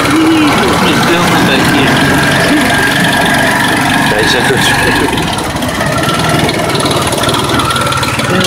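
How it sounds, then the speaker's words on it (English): A motorized tricycle engine runs steadily during a ride in the Philippines, a loud continuous drone with road rumble, while voices talk over it. "Hey, we're in a tricycle. We're going for a ride."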